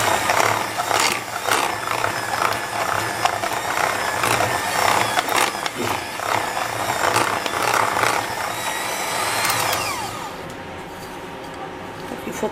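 An electric mixer beats egg yolks, added one at a time, into Sachertorte chocolate cake batter, a loud, steady whirring drone that runs throughout and eases slightly toward the end.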